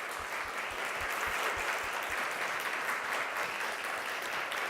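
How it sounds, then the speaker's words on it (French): Sustained audience applause at a small-business entrepreneurs' evening hosted by a chamber of commerce, a thick wash of clapping from a large crowd, with a few low thumps early on and no voices on top. "applaudissons nos entrepreneurs."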